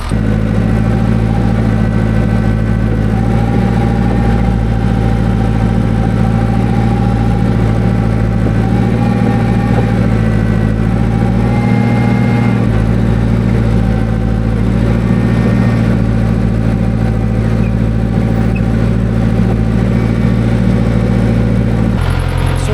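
A John Deere 450B dry clutch dozer engine running steadily just after a cold start, a loud, close, continuous diesel idle with a deep throbbing rumble.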